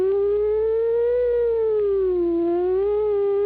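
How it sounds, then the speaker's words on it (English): A wailing siren rises and falls in pitch, steady and fairly loud, its tone sweeping slowly up and down with no voices over it. "approaching and receding siren."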